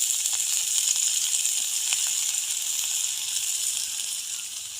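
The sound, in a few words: onion and green chilli frying in boiling oil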